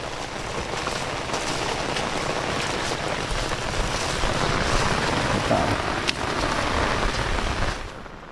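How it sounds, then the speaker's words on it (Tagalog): Heavy rain pours steadily and loudly, a dense continuous hiss with scattered drops striking nearby surfaces. "grabe po ang ulan"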